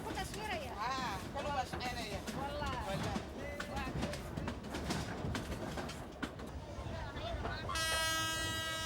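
A passenger train travelling from Dire Dawa in Ethiopia rumbles steadily with rattling carriages, while voices and chatter carry over it, and a horn sounds near the end.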